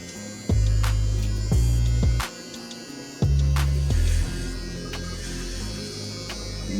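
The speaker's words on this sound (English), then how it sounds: "I will give you a demonstration on trimming my beard" A Solati electric trimmer with a number 1 guide comb cutting a beard, its loud close buzzing hum switching on and changing pitch in several bursts as the blades pass through the hair.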